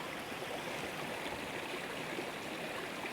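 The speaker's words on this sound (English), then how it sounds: "I can hear a waterfall. It's down there somewhere." Distant waterfall heard from Scottish woodland, a faint, steady broadband rush of falling water that holds unchanged throughout, with no voices over it.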